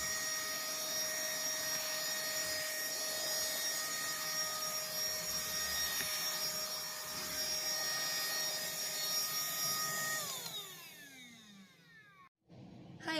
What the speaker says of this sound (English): I am getting some cleaning done, as you saw. Also using my new vacuum.